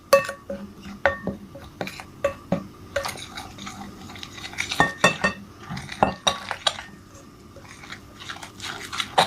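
A spoon stirs dry flour in a bowl while making Port Said shikal, with irregular clinks and scrapes against the bowl and soft crunchy rustles between them.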